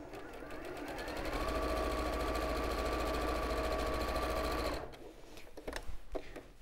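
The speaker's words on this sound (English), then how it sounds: "we'll just pop this onto the machine now. And just a straight stitch." A sewing machine runs a straight stitch in a steady, close, continuous whirr for several seconds, then stops and leaves a few quieter knocks and handling sounds.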